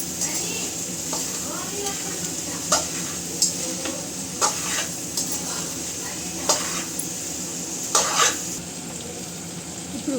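Chickpeas being stirred into hot oil in a pan, a continuous sizzle broken by repeated scraping and clinking of a spoon against the pan, close and fairly loud.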